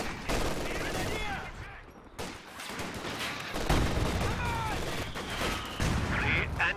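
Bursts of small-arms and machine-gun fire from the Company of Heroes 2 video game, a dense, continuous barrage of loud shots with brief pauses, while game voices speak over it.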